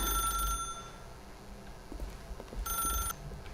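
A telephone in The Stanley Parable rings in two bright electronic bursts, one at the start and one near the end, heard clearly over a low hum with no talking.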